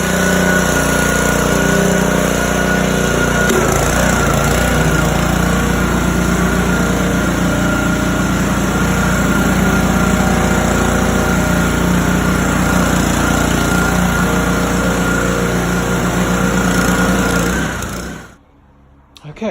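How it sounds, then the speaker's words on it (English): A spinning floor cleaner runs continuously over a garage floor, its steady loud motor drone close and unbroken for most of the stretch before cutting off near the end. "It's like a thing that spins around and it cleans it."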